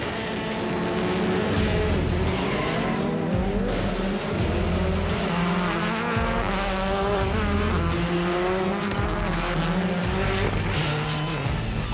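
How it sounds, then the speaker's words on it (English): Rallycross race cars roar continuously at Red Bull Global Rallycross in Los Angeles. Engines rise and fall in pitch as cars accelerate and shift, with tire noise mixed in. The sound is loud and steady throughout, with no talking. "we are in Los Angeles at Red Bull's Global Rallycross"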